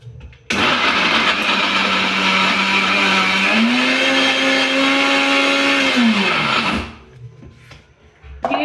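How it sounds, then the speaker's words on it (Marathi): A kitchen mixer grinder whirs loudly while grinding sesame seeds and broken jaggery for til ladu, running steadily for about six seconds with a rising pitch before spinning down and stopping. "ते नुसतं एक वेळ फिरवावं लागते फक्त मिक्सरमध्ये"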